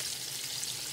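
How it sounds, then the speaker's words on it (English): Pork chops frying in a pan give off a steady, close hiss of sizzling fat with faint crackles, filling the short moment alone without talk. "So right now, my pork chops right now is frying"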